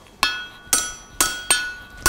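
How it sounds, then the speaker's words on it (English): A blacksmith hammers the hot end of a short steel bar on an anvil while forging a tie bar, five loud, ringing, evenly spaced blows with no voices. "I can hammer the hot side on the anvil."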